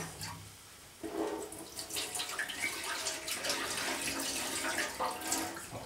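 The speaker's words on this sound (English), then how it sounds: "so just need to rinse it off now." Running tap water rinsing washed rice for a rice cooker fish rice dish, starting quietly, then a steady, close splashing stream that fills the rest of the clip.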